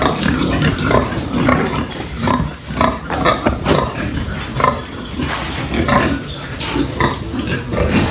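Piglets on a pig farm grunt and oink continuously, a dense, close chorus of many small animals with overlapping snuffles and squeals throughout.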